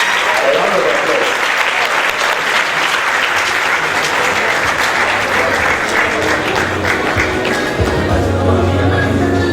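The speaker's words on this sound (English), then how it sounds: "A round of applause" An audience at a geography alumni lecture and award ceremony claps steadily, a loud, sustained round of applause filling the whole stretch at an even level.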